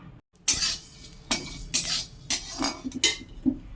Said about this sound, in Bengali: আমি শুকনো খোলায় গোটা ধনে জিরে একটু নেড়ে চেড়ে ভেজে নেব